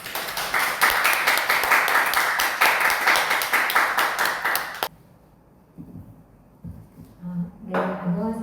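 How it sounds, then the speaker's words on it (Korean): A church congregation at Sunday worship claps steadily for about five seconds as a guest speaker comes forward, then the applause stops abruptly and a voice begins speaking nearby. "우리 나오실 때 큰 박수로 바랍니다."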